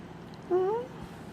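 A blue-eyed female cat gives a single short, fairly clear meow, rising then falling, against a quiet indoor background with no talking.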